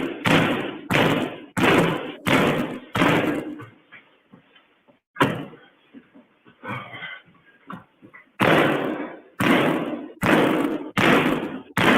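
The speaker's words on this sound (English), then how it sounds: "That's Jim Jones kicking the door, y'all." A door is kicked repeatedly, loud heavy thuds and bangs arriving in bursts, then a quieter stretch with muffled movement and one more bang before another run of forceful kicks.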